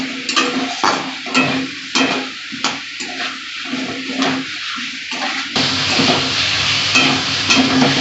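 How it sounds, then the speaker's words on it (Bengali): Potatoes, pointed gourd and beans are stirred and fried in hot spiced oil in a pan for a fish curry, with loud sizzling and repeated scraping stirs that settle into a steady fry. "এবার আমি ভাজা সবজিগুলো দিয়ে দিচ্ছি। আলু, পটল আর বিন।"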